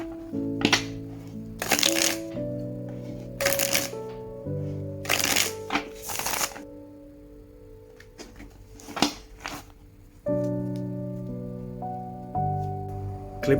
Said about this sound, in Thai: เดี๋ยวเราลองมาสับไพ่แล้วดูกันเลยนะครับ